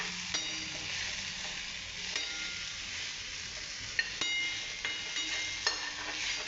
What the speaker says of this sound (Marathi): आता हे सगळं छान परतून घेते मी।